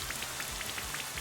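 Rain effect from the Rain Dance move in Pokemon Sword & Shield, a steady hiss of falling rain with soft repeated droplet patters, continuous and fairly faint.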